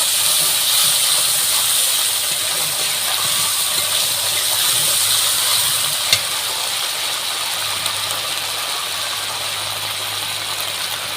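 Ginger-garlic paste frying in hot oil for a pointed gourd and prawn dish gives a steady, close, even hiss that runs unbroken throughout, with no talking.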